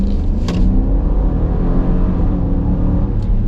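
A Dodge Durango R/T with its Hemi V8 accelerates, a loud, steady low engine rumble building throughout, close by and heard from inside the vehicle with no talking.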